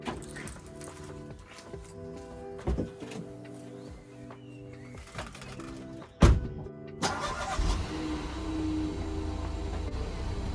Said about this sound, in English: What I need to do quickly is move my car.